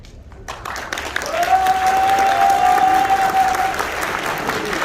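At a correctional service award ceremony in a hall, applause swells from a quiet start into sustained clapping with cheering, a sharp whistle-like tone riding over the crowd for a few seconds.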